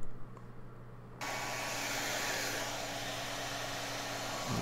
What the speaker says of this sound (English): I just grabbed a blow dryer, and I just wanted to heat up the speakers because they're held on with adhesive.